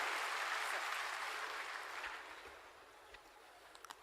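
Applause from an audience welcoming a principal secretary at a Ravidas Jayanti government function, a broad clapping wash that starts full and gradually thins out, ending in a few scattered claps.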